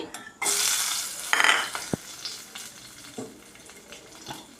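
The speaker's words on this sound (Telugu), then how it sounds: "ఒక నాలుగు మిరపకాయలు కొంచెం వేగాలి" Dried red chillies and garlic dropped into hot oil, bursting into a loud, close sizzle, with a few scraping stirs and clinks of the ladle as the frying settles to a softer hiss.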